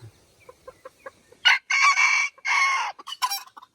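Bantam chickens cluck in a mountain setting: a few soft, scattered clucks, then loud, drawn-out squawking calls in quick bursts, close by, with no talking.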